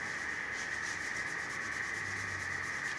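Wax being rubbed into an original wooden furniture finish makes a steady close scrubbing hiss with a fast regular back-and-forth rhythm, continuous throughout with no voices.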